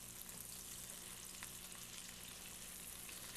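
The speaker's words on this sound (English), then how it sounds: "And just keep tossing the pancetta so that it all gets cooked properly and thoroughly." Pancetta sizzles steadily in a pan while being tossed, a soft, even hiss of frying fat with faint stirring scrapes, heard close but quietly.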